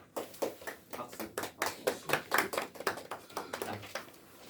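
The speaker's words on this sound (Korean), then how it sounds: "박수." Korean high school students in a classroom clap together in a steady, fairly quick run of claps, close and moderately loud, lasting several seconds before easing off.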